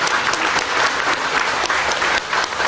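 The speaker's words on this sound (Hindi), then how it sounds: "जोरदार तालियां, ताली बजाओ" Lively audience applause fills the space at a musical health talk, a dense steady patter of many hands clapping close by, swelling in short bursts over nearly three seconds without speech.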